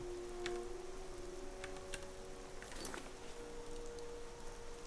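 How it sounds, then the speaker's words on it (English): Steady rain in the video game Skyrim patters softly and evenly, with a few brief ticks and drips standing out against the continuous wash. "Ooh, it's raining, yay!"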